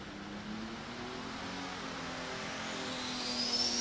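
A diesel super stock pulling tractor called Tennessee Tracks at an NFMS pull in Louisville, Kentucky, sits as a distant, steady engine drone that slowly builds, with no talk over it.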